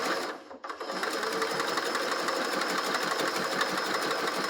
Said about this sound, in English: I always back stitch at the beginning and end